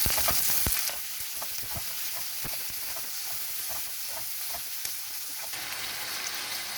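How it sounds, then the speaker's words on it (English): Onions and tomatoes frying in a pan for a drumstick masala gravy, a continuous close sizzle with scattered crackles and soft stirring scrapes, loudest at the start as the tomatoes go in, and no speech. "At this stage I am adding the tomatoes in and stir"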